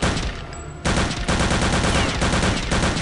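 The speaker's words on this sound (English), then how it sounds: "Burst fire!" Loud, dense machine gun fire in Return to Castle Wolfenstein, a rapid continuous stream of shots after a brief quieter moment at the start, close and harsh throughout.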